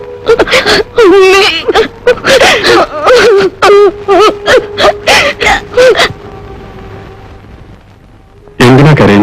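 A girl crying loudly and close by in a domestic drama scene, with repeated sobbing whimpers and wails in quick bursts for about six seconds, then a near-silent pause before the sobbing resumes.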